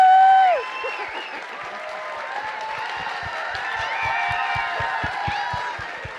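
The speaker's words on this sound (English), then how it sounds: "Please give a big round of applause for V." At a Capital City Pride speaker event, a crowd applauds and cheers with whoops and shouts rising over the clapping, opening on a loud whoop and then holding a steady mix of clapping, cheers and cries throughout.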